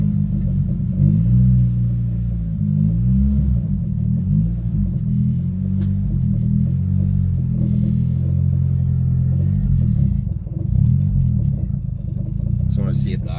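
A boosted Honda Civic EG with a newly replaced idle air control valve drives around the block, its engine a steady low rumble with occasional revving swells, close and continuous throughout.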